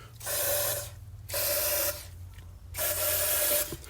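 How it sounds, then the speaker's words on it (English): Three separate bursts of pressurized WD-40 aerosol spray into the spark plug ports of a Toyota Corolla, each hissing for about half a second to a second, with short pauses between, close and fairly loud. "Just get a little bit of WD-40, you won't do any harm, and just spray them down each port"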